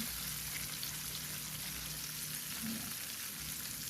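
Chicken frying in hot oil in a home kitchen gives a continuous soft sizzle and crackle, steady and close, with no talk over it.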